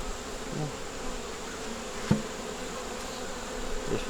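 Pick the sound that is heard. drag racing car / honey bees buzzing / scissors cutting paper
honey bees buzzing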